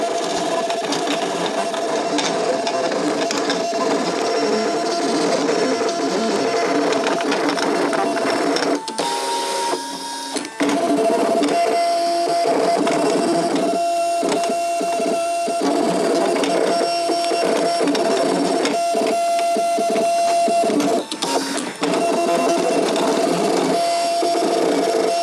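Electric vinyl cutting machine cutting out sticker labels, a steady whirring motor hum with shifting tonal whines and quick stepping buzzes as the blade carriage moves, continuous and close with no talk.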